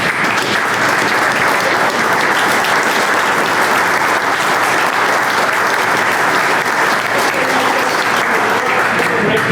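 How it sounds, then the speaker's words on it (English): A standing audience at a leadership talk gives a loud, sustained round of applause, thick continuous clapping throughout with a murmur of voices mixed in. "I'd like everybody here to please stand up and applaud for a couple folks."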